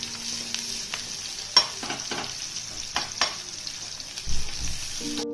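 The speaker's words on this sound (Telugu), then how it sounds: "చూడండి ఆనియన్స్ అయితే బాగా వేగిపోయాయి" Onions fry in a pan for a Rayalaseema-style broad bean fry, a steady close sizzle with a few sharp scrapes and knocks of a spoon stirring, no voices.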